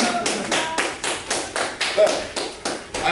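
Rhythmic group clapping from a high school comedy show audience, about eleven sharp, evenly spaced claps roughly every quarter second, fairly close and crisp, with faint voices underneath.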